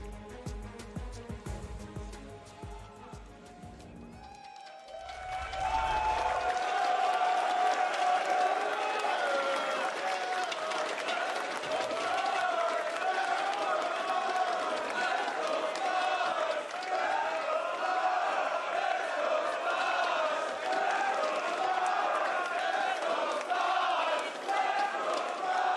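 Large arena crowd at a League of Legends esports match between Splyce and FPX roars and cheers continuously, loud and sustained, following a brief moment of commentary and music.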